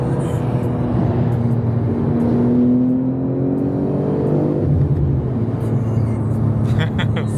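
Engine roar from an Audi RS7 and a BMW M3 being revved, the pitch rising and falling in long sweeps, loud and close throughout.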